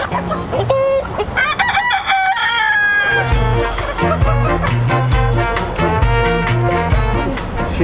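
A show hen and rooster cluck and crow loudly up close, with a long crow rising early on, joined by steady rhythmic music that thumps underneath.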